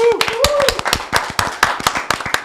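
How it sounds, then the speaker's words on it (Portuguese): A small studio audience on a podcast set claps for a guest, sharp, close, separate hand claps at an uneven rhythm, with a voice calling out briefly at the start. "quero que vocês deem uma salva de palmas para Jackson Marques."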